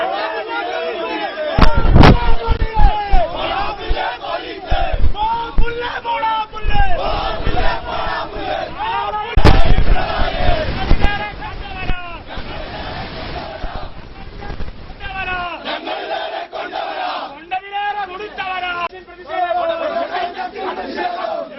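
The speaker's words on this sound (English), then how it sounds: "Opposition staging a protest demanding the resignation of Chief Minister Pinarayi Vijayan" A large opposition protest crowd in Kochi, Kerala, demanding the Chief Minister's resignation, chants and shouts loudly and continuously, with bursts of louder roaring and sharp cracks mixed into the dense crowd noise throughout.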